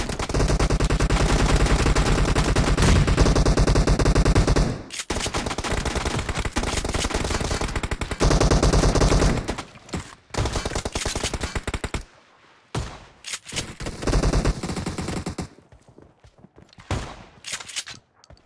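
Loud, sustained automatic M16A4 fire and shotgun blasts in a team deathmatch video game rattle almost continuously at first, then break into shorter bursts and single shots with brief gaps near the end.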